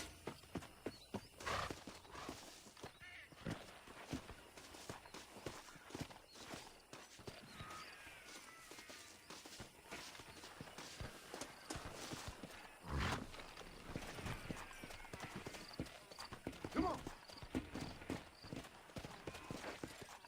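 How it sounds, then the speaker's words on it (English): Horses in the Red Dead Redemption video game walk with soft hoof clip-clops and occasional whinnies, set in an open Old West landscape, the sounds moderately faint and irregular over a continuous outdoor ambience. "And look, 3 horses."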